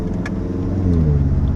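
Lamborghini Aventador SV in Corsa mode on a street in Monaco, its engine a loud, close, continuous rumble that swells slightly toward the end, with no voices over it.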